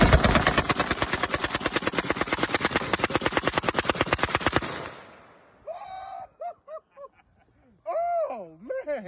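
A SCAR rifle in .308 firing fully automatic, a rapid, loud sustained burst of evenly spaced shots lasting several seconds, followed by voices talking.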